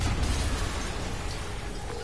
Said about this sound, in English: Yuri, an explosion just... I saw it